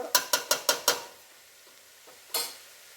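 Sweet corn stirred and fried in a pan, five quick evenly spaced scraping strokes of a spoon against the pan close by, then a faint sizzle and one more stir a moment later.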